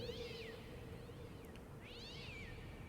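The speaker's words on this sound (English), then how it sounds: "That sounds like a cat fighting." Two drawn-out yowling cat-fight cries in the video game Secret Files: Tunguska rise and fall, one at the start and one near the end, over a steady low hum.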